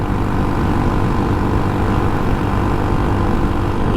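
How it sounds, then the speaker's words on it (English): A scooter engine runs flat out at full throttle on an open highway, a loud, continuous droning roar mixed with heavy wind rush, steady and close, with no talking. "Just got the throttle pinned open"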